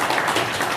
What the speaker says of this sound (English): Come on, let's give Nicole a round of applause.